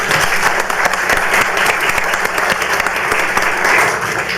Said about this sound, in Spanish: un aplauso para el senador